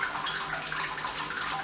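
Clean warm water trickling and soaking down through a bed of grain in a Robobrew all-in-one brewer during the sparge for a pale ale, a soft steady pouring hiss, close and fairly quiet, with no voices.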